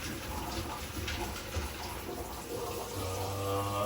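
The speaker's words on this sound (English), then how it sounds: "You're pouring hot water into your sink." Hot water pouring into a kitchen sink, a steady rushing splash close by with a continuous hiss and a low gurgle rising toward the end.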